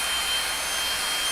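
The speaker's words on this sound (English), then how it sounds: "I now need to grind that corner as well. So I'm using my handy dandy Dremel for this purpose" A handheld Dremel rotary tool grinds the corner of a metal protractor, giving a short, steady high-pitched whirring hiss, close and loud with no pauses.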